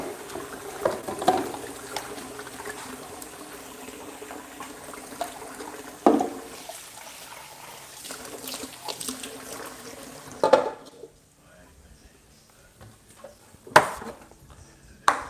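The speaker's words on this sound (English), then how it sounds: "Rinse out my measuring cup." A measuring cup is rinsed out under running water, with a faint ongoing trickle, a few sharp clatters, and a brief louder splash near the end.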